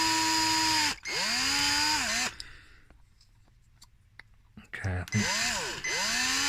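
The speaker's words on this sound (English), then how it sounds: "the drill wants to bite into it and go right through." A power drill bites into a part in loud, close bursts whose motor pitch sags and rises under load, with a quiet gap in the middle and a brief spoken word.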